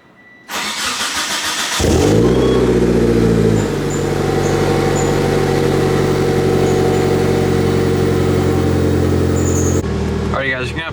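A car engine turns over, catches with a brief rev, then settles into a steady, loud, close idle that runs for several seconds before a voice cuts in at the end.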